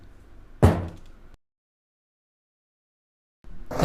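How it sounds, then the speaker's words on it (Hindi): A jammed door takes a kick: one sharp, heavy thud rings out and fades, then silence, before another impact starts right at the end. "उस दरवाजे को लात मारने लगता है"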